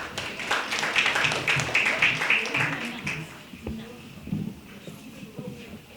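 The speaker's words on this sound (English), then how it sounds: "Give them a round of applause." An audience at a community youth event claps for about three seconds, scattered hand claps that thin out into a few isolated claps and faint room noise.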